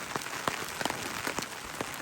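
Rain patters on a surface, with scattered sharper drops and impacts over a dense hiss, close by and fairly steady.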